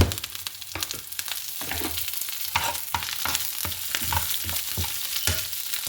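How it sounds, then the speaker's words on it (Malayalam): Dried red chillies and curry leaves sizzle and crackle in hot oil for sambar, with stirring scrapes over a steady loud frying hiss and sharp popping bursts throughout. "ഇതിനകത്തേക്ക് ഈ ഉണക്കമുളകും വേപ്പിലയും കൂടി ആഡ് ചെയ്ത് കൊടുക്കാം."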